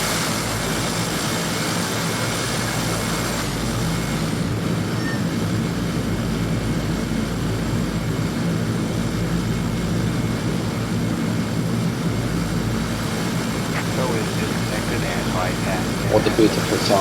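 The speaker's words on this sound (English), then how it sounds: "What a beautiful sound of 𝗔𝗜𝗥𝗏𝗏𝗵. I like the sound of propellers." Fokker 50 propeller engines in X-Plane 11, a steady droning hum running throughout, with a voice talking over it.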